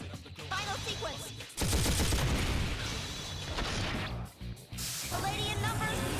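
Heavy automatic gunfire bursts from Aigis's big gun in the fighting game Persona 4 Arena Ultimax, loud and sustained with dense crackling blasts and a brief pause near the end.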